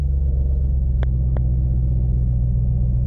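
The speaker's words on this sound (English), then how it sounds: "Start the car." A 2018 Dodge Challenger's engine idles in a deep, steady, close rumble throughout, with two brief clicks early on.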